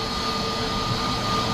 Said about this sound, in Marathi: हे विमान, बघा किती आता मोठं आलं आहे।